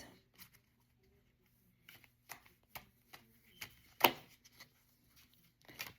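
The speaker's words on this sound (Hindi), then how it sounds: "दो कार्ड्स और निकालते हैं।" Tarot cards are shuffled and drawn in a quiet room, a series of soft, separate riffles and flicks spaced roughly half a second apart, with one sharper snap midway, close and faint.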